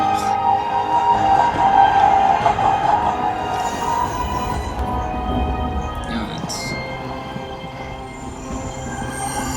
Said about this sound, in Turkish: Tren falan.